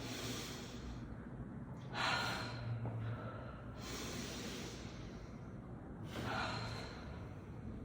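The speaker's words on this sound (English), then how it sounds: "we're going to inhale the shoulders up high, and exhale, just let go of everything" A deep inhale and slow exhale during a guided yoga breathing exercise, heard as soft, airy breaths that swell and fade in a steady rhythm, close to the microphone and fairly quiet, with no talking over them.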